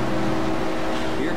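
A race car engine drones loudly and steadily as the leader approaches in the NR2003 racing game at Daytona, a continuous roar with a slight pitch sweep as the car passes.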